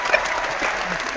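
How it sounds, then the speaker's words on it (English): Brief burst of clapping, a short round of applause that fills the moment loudly and evenly for about a second, with a faint voice underneath. "And get yourself a round of applause, Ms. K."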